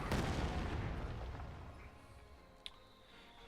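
Mortar barrage in Company of Heroes 2, a heavy boom at the start that rolls and fades into a long decaying rumble, followed by a couple of small sharp distant pops, quiet overall.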